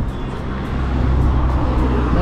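A small car rolls past close by outdoors near a lakeside sports court, its steady road hiss and engine rumble swelling slightly as it goes by, with no talk over it.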